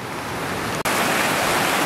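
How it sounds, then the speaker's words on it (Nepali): A river swollen by overnight rain roars past, carrying landslide debris, in a loud, dense, continuous rush with one brief dropout midway, close by and without voices. "यो खोला माथिबाट उर्लिएर आउँदैछ जस्तो मान्नुपऱ्यो"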